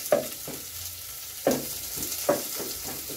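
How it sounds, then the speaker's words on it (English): Onions cooking in oil for a chicken stew give a soft, steady sizzle, broken by three sharp scrapes of a utensil against the pan. The sound is close, with no talking. "we are going to cook our onions in oil"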